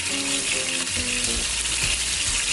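Seasoned oxtail searing in a hot pan for stew gives a steady, close sizzle and crackle, with a faint tonal hum early on and a few soft knocks near the end.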